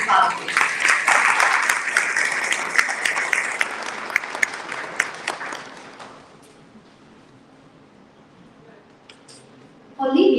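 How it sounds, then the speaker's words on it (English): A conference audience at a global summit on sustainable futures for women applauds Avcılar municipality: dense, close clapping for about six seconds that thins into scattered claps and a quiet hall, then a brief burst of noise at the end. "let's give, first of all, a round of applause for Avcılar municipality"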